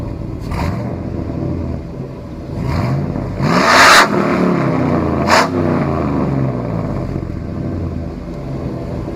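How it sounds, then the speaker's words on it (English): Exhaust of a 2001 Chevrolet Silverado Z71 pickup heard from outside the truck, a steady idle rumble broken by a few sharp throttle blips and one long deep rev near the middle, loud and close. "here's the rev on the outside."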